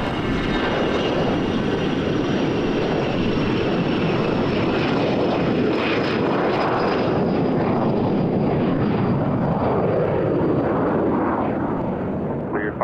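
A general aviation plane takes off from runway 27 right at Gillespie Field in San Diego, its propeller engine a loud, sustained roar that slowly recedes over about thirteen seconds, with no talk over it.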